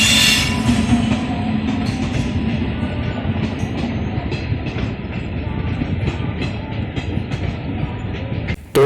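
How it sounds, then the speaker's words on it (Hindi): The Chetak Express, an electric locomotive hauling coaches, rolls into Rana Pratap Nagar station with a loud, steady rumble and rattling wheels close by, ending in a brief thump. "अभी यहाँ पे मीटर गेज के टाइम से चली आ रही सबसे पुरानी ट्रेन चेतक एक्सप्रेस का अराइवल हो रहा है।"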